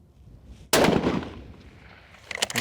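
A single sharp rifle shot cracks out at an outdoor range aimed at a 500-yard target, a loud sudden blast decaying over a second, followed by faint rattling and a burst of further noise at the end.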